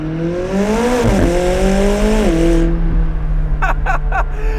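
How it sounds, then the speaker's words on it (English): Close, loud engine revving with rising and falling tonal whine as a 2024 Ford Mustang accelerates, then a few short high squeals from its racing brakes near the end. "Racing brakes, love the squeal on these things."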